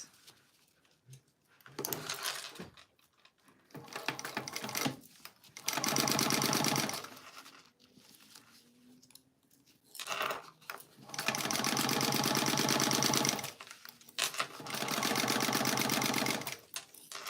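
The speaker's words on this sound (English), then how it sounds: "go sew this to the other side of the sides" Sewing machine stitching fabric seams, several loud close runs of rapid mechanical whirring lasting a few seconds each, separated by quieter pauses with handling noises.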